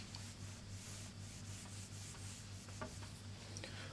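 Writing being rubbed off a classroom board, a continuous scratchy rubbing with short repeated strokes over a low steady hum, close by with no talk.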